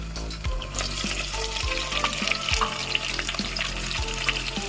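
Onions sizzling and frying in a pan, a steady dense crackle with periodic scraping stirs and clinks of a utensil, close and fairly loud throughout, no talking.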